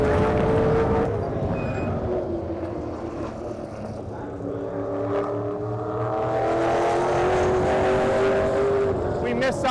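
Race car lapping a track, its engine loud and near with sweeping harmonics as it revs up through gears, easing and building again along the straight, with voices talking over it.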